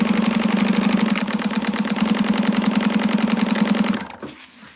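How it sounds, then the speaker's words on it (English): Sewing machine stitching lightweight fabric along a seam allowance for a wristlet, a fast steady mechanical whir with rapid needle chatter for about four seconds, then slowing and stopping. "So let's stitch this at the seam allowance she gives."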